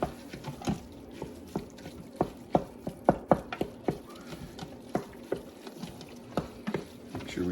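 Onion and fresh garlic cook down in an Instant Pot, giving a soft, irregular patter of sizzling and stirring taps close by with no talking.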